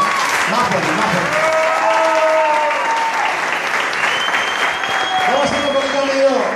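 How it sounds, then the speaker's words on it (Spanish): Loud, sustained crowd applause at a comedy show, thick clapping mixed with cheering and whistles, with voices shouting over it throughout. "necesito aplausos, pero más fuerte que esto"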